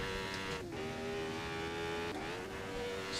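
A Formula 1 car lapping the Goodwood circuit, its engine holding a sustained high whine with brief dips around gear changes or lifts, heard steadily and somewhat distant without speech.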